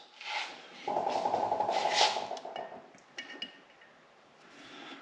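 Pliers grip, twist and pull small keepers off the valve stems of a Subaru EJ25 cylinder head, giving a short run of close metallic scraping and rubbing with a few light clinks that fade to quiet.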